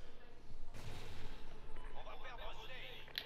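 Sniper rifle fire in a video game: one sharp, loud shot bursts out near the start, followed by a fainter crack and scattered game effects while someone talks over it.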